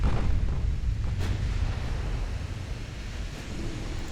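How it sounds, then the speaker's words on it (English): A deep, muffled rumble of a torpedo striking an enemy warship in the naval strategy game Ultimate Admiral Dreadnoughts, with a heavy low boom that rolls on for several seconds under a wash of sea-like noise. "Torpedo hits on the aft section of an enemy warship."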